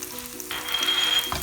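Garlic dropped into hot melted ghee for tarka dal sets off a sudden, close sizzle that holds steady for about a second, with no talking.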